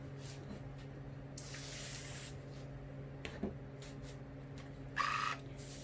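Spray starch misted onto quilt fabric before ironing: two short hissing sprays, one longer and one brief, faint and close against a quiet room hum, with no talk.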